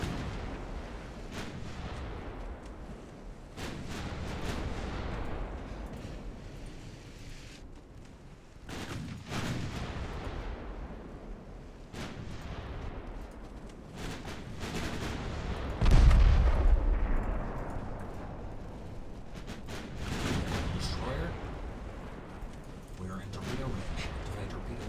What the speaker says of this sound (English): Shells, main guns, armor piercing.